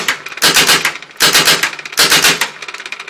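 Rap4 paintball marker with a box magazine firing three rapid bursts outdoors, each a loud, sharp clatter of quick shots separated by brief pauses.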